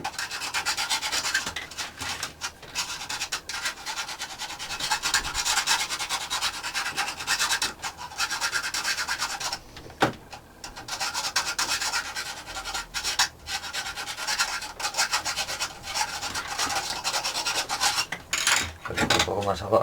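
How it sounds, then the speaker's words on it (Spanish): Steady hand-file rasping on the metal head of a manual pump drill, with continuous back-and-forth strokes throughout, close and fairly loud, with brief pauses between passes. "le vamos a arreglar un poquitín con la lima"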